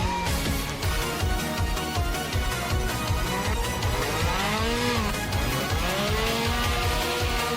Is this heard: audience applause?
no